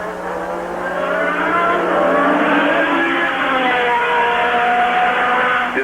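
Formula 1 cars at the 1985 San Marino Grand Prix scream past with a loud, sustained high engine wail, pitch sweeping and overlapping as several cars race close together.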